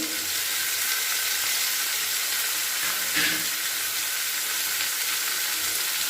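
Steady, dense sizzling of prepared spices frying in hot oil, with a brief scrape of stirring partway through.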